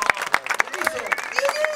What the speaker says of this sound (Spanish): Aplauso, fuerte el aplauso.